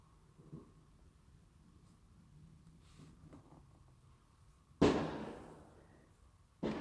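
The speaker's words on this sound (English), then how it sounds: "today many kids are already enjoying the fireworks and making a lot of noise" Fireworks set off by kids outside during the Christmas season pop as two sharp, loud bangs after a quiet stretch, the first ringing out with a brief rumbling tail.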